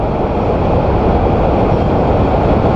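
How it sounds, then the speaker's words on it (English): A train rumbles past in a noisy city, a steady, loud, continuous roar of rail cars and wheels filling the whole stretch with no let-up. "there's a train going by"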